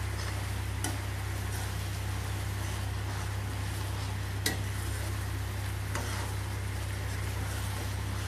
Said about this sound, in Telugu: సేమియా ఇలా దగ్గరకు వచ్చిన దాకా ఇలా కలుపుకుంటూ ఉండండి.